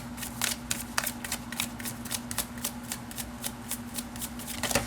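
Tarot cards being shuffled by hand in a quiet room, a rapid run of crisp papery flicks and riffles that continues steadily throughout, close and alone with a faint steady hum beneath.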